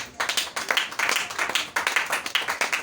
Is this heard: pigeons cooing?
no